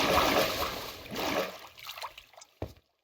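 Water flowing from a water source in the Minecraft video game trickles and splashes, a soft, close gurgling stream that gradually thins out and ends with a brief final splash.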